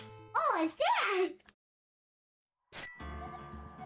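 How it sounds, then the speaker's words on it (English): A phone notification chime rings out once, clear and close, after a stretch of silence, with a child and an adult talking just before it. "That was a phone."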